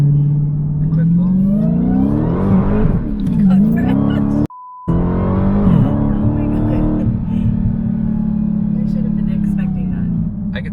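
A Dodge Challenger Hellcat Redeye accelerates hard in a loud, close pull, its engine climbing through rising revs with a shift partway, a brief dropout, then a steady strong drone, while people talk over it.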